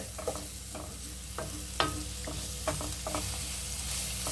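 Tomato and masala sautéing in a pan for egg kurma, with a steady close sizzle broken by repeated scrapes and stirs of a spoon against the pan.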